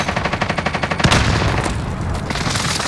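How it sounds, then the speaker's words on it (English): Airstrike explosions in a video game: a rapid, evenly spaced volley of gunfire-like pops, then one heavy blast about a second in, followed by a dense, rumbling stretch of continued fire. "Throw an airstrike"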